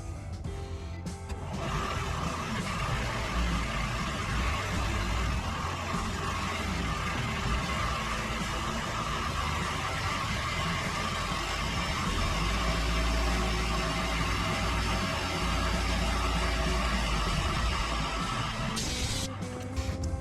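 Grinding machine running steadily while grinding down a vise, a continuous loud whirring drone with gritty broadband texture holding for about twenty seconds with no talk.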